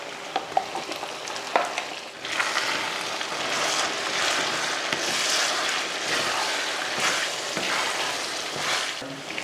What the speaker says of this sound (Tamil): நல்லா மசாலா போட்டு நல்லா ஒரு ரெண்டு மூணு நிமிஷத்துக்கு நல்லா வதக்கி விட்டோம்னா நல்லா எண்ணெய் பிரிஞ்சு வரும்